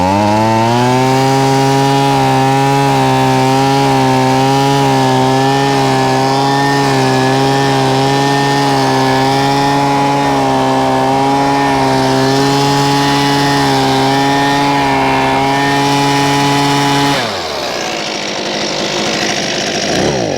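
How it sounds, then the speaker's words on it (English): A Husqvarna 125B leaf blower's small gas engine roars loudly and steadily at high revs for a long stretch, then drops abruptly to a lower idle near the end. "I am using my Husqvarna 125B blower."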